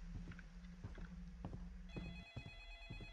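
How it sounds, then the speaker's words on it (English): A telephone ringtone sounds indoors during a nighttime ghost hunt, with repeated electronic rings over faint shuffling and movement noise. "Phone's ringing again."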